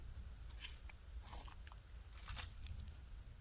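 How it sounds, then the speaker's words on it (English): Crisp, close crunching bites, like a mouth chewing something brittle, come in several quick irregular bursts over a low constant rumble, with no talking. "Eee, crunchy."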